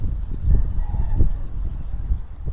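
Chickens in a backyard give low, rough clucks over a steady outdoor rumble, with a few louder bursts scattered through the short stretch.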